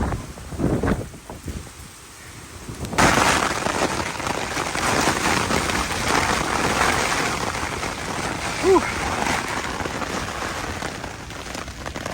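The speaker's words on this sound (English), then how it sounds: "So the rain hit now." Storm rain drumming on a Jack Wolfskin Yellowstone 2 tent, starting suddenly after a quieter gusty stretch, then a dense, steady patter close by with wind mixed in.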